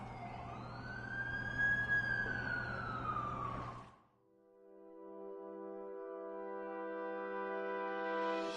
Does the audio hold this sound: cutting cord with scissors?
no